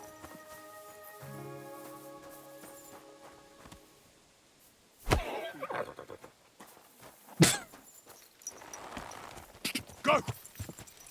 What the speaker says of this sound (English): Horsey, what are you doing here on your own?